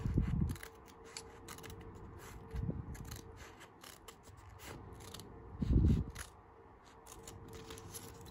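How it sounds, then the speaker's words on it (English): Scissors snip a sheet of planner paper in half by eye, three separate crisp cutting strokes spaced a few seconds apart, close and clear against a quiet room with no talking. "Snip, snipped in half."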